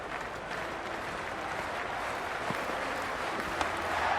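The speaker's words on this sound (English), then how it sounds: "this crowd is already making it hard for me to be heard" Steady roar of a cricket stadium crowd in the Cricket 26 video game, a broad, even wash of cheering and applause with faint clap spikes and no clear voices.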